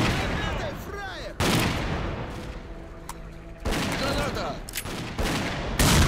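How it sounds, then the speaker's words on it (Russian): Heavy bursts of gunfire and loud blasts in S.T.A.L.K.E.R. Clear Sky arrive in several abrupt waves separated by short lulls, with the noise crowding close and full, and a voice talking faintly between the bursts. "тут гранаты пошли в ход"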